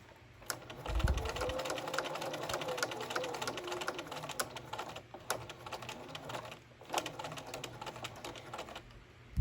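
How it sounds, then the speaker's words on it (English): A sewing machine stitching into the corner of a fabric hot pad for a large casserole dish, a quiet, steady mechanical whir with rapid ticking needle strokes, briefly pausing and resuming, close and fairly soft with no talking. "Remove the pin with the needle down, pivot your hot pad and sew directly into the corner."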